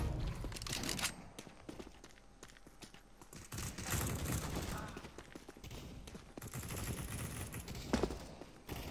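Sniper rifle and other gunfire in the shooter game Counter-Strike: Global Offensive, sharp cracks scattered among footsteps and match noise, with a player talking over the action at times.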